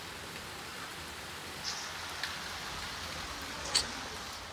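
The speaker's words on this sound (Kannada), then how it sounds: "ಮಳೆ ಸ್ಟಾರ್ಟ್ ಆಯ್ತು ಆಯ್ತಾ. ಎಂತ ಮಳೆ." Rain falls steadily in a soft, even hiss, fairly faint and unbroken, with a few brief louder drop ticks standing out here and there.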